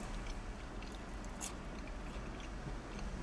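Freshly cooked Red Rooster chips are chewed up close, a faint, steady mouthy crunching under a constant background hiss, with no talk.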